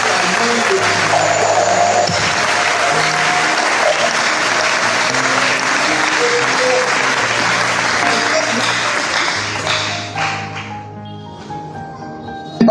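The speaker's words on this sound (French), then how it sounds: "Je voudrais que nous acclamions pour le Seigneur pour cette année" A church congregation applauds and cheers for the Lord at a New Year 2022 service, dense sustained clapping over organ or keyboard chords, fading slightly near the end.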